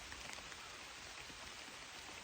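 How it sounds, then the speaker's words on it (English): Light rain begins falling on an outdoor camping site at a homestead, a steady, faint, even patter of drops with no other sounds. "Well, I'll be darned if it ain't trying to rain on me again."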